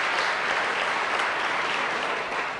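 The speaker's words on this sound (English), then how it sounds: "I'm glad that you applaud" An audience at a free speech debate applauds in a dense, steady wash of clapping that holds at an even level throughout, with no voices over it.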